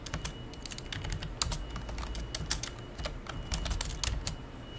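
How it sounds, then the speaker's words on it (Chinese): Rapid computer keyboard typing while entering text into a storyboard web app, a steady run of close, crisp key clicks with no voices. "你就可以在上面打字"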